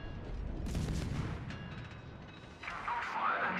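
Warship guns booming in the World of Warships naval battle game, a heavy salvo and deep rumbling blasts over a constant low roar of battle noise.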